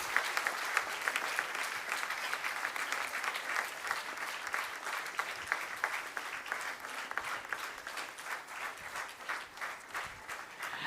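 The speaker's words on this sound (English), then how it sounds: "Let us give a big round of applause to all the kids." An audience at a spiritual session claps for the children, a steady, dense round of applause lasting about ten seconds with no voices over it.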